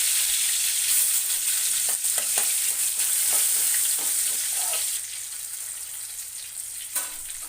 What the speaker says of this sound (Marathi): आपला चांगला ना कांदा भाजला आहे आता मी त्याच्यामध्ये ना कांदा घालते